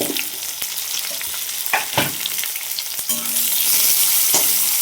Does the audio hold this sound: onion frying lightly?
yes